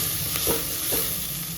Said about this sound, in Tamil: வெங்காயம்லாம் நல்லா வதங்கி வந்துடுச்சு